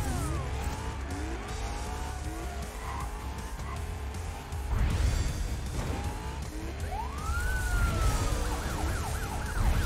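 Police car sirens wail in the Cruis'n Blast arcade racing game, with rising and falling tones over a loud, steady engine roar and skidding tires, the siren sweeps growing stronger toward the end.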